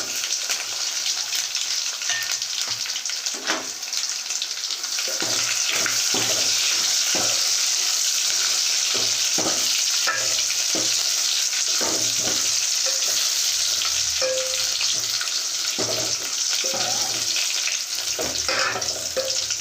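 Dried red chilies and garlic fry in hot oil for a sambar, giving a steady, close sizzle with scattered crackles and pops running throughout.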